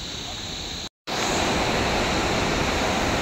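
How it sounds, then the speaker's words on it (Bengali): A mountain waterfall in the Urgam Valley near Kalpeshwar, below glacier-capped peaks, pours with a steady, dense, close rush of water that cuts out for a split second and then resumes just as loud. "ঝর্ণার শব্দ"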